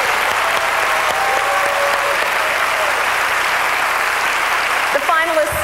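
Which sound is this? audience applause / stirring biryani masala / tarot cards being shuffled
audience applause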